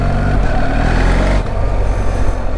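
BMW R1300 GS motorcycle engine running loud and close, its steady drone shifting abruptly partway through as a manual gear change cuts and resumes the power.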